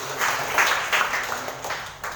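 Church congregation applauding during a sermon, producing a dense, steady patter of many hands clapping at moderate distance for about two seconds, with no voices on top.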